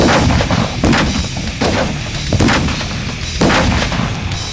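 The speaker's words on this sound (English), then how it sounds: "that's how we record explosions at the Chop Shop" Four heavy explosions boom one after another, loud and close, each with a rumbling tail that runs into the next.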